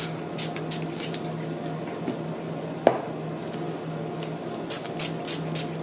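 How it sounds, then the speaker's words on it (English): Quick hissing sprays from a spray bottle come in bursts onto the top of a melt-and-pour soap loaf, with one sharp knock in the middle and a faint background hum. "So I'm going to spray the top down."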